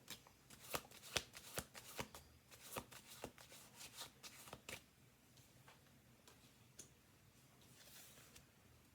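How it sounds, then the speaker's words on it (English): Tarot cards riffled and shuffled close up, a run of crisp snapping bursts that grow sparser and quieter toward the end, with no voices. "1 more shuffle"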